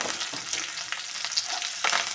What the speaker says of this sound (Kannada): ಒಣಮೆಣಸಿನ್ಕಾಯಿ ಹಾಕ್ತಾಯಿದ್ದೀನಿ, ಕಟ್ ಮಾಡ್ಕೊಂಡಿದ್ದೆ ಈರುಳ್ಳಿ ಹಾಕ್ತಾಯಿದ್ದೀನಿ. ಸ್ವಲ್ಪ ಫ್ರೈ ಮಾಡ್ಕೊಳ್ಳೋಣ.